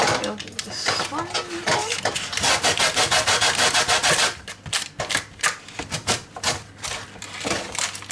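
Food scraped back and forth across a kitchen grater while baking, a loud, close rasping rhythm of quick strokes that turns into separate scrapes, with people talking over it.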